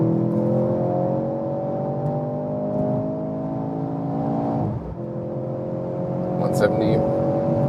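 A Mercedes C43 AMG accelerating hard on the road, its engine note climbing steadily as a loud interior drone, then a brief dip for a gear change before it pulls on again.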